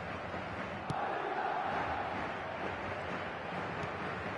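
A stadium crowd in an eFootball match murmurs and roars in a steady, fairly faint wash, with a brief sharp sound about a second in and no clear voices above it.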